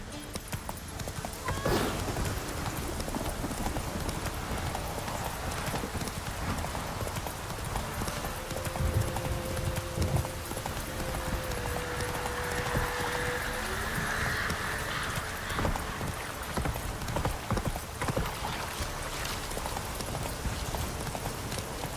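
Horse hooves clip-clopping at a steady gallop in The Witcher 3, with rapid rhythmic beats that carry on throughout, close and prominent over a faint game background.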